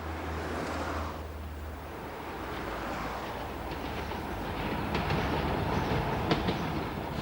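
Newcastle Metro local railway train running on rails: a loud, steady rumble and roar of a passing train with faint rhythmic clickety-clack from the rails, growing busier toward the end, with no talk.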